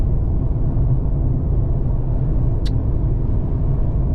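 Low, steady road rumble fills the cabin of a car driving through heavy traffic, heard from inside, with one brief faint click partway through and no talking.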